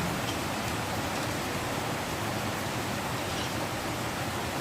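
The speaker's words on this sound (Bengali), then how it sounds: "যা বৃষ্টির আওয়াজ হচ্ছে কিছু শোনাই যাচ্ছে" Heavy rain pouring steadily outside during home cooking, a dense, even hiss that holds loud and unbroken throughout with no voices.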